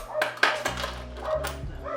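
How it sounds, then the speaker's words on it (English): A dog barks in short, sharp bursts at the neighbours' little poodles next door, with whimpery yips in between and a low steady hum behind, fairly close and loud. "He's barking at the dogs next door."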